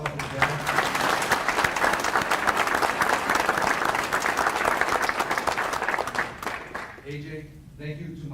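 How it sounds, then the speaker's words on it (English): A roomful of people applauds the band at a military sergeant major relief and appointment ceremony, loud continuous clapping that fades out near the end as a voice begins. "please join me in a round of applause for the band."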